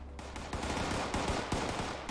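Gunfire in the video game Fallout 76 crackles loudly in rapid bursts, a dense fusillade of sharp shots that runs for about two seconds without talk over it.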